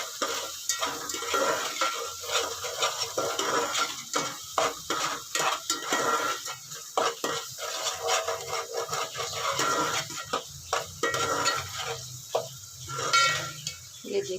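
Masala being mixed with salt and chilli for dal makhani, a spoon scraping and stirring in a pan with a steady sizzle, close and moderately loud, with irregular clinks of the utensil against the pot.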